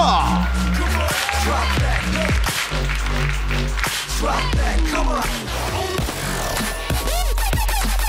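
Studio audience applauding at a FIFA Online 3 esports championship broadcast, a dense steady wash of clapping mixed with loud game audio, music and commentary throughout.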